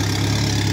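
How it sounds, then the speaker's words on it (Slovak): A Škoda 130 fitted with a turbocharged 1.4 MPI engine idles while warming up, a loud, close, steady low rumble with an even pulsing beat and no talking. "Nech sa motor trošku nahraje."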